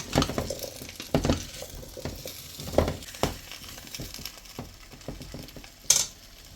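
Zucchini and vegetables being stirred in a pot, with repeated scraping and clattering strokes at an irregular rhythm, close by, plus a sharp clink near the end.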